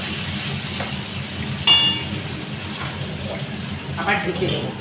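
Boal fish fries in a pan, spluttering and popping in scattered crackles over a steady low sizzle, with a voice talking nearby.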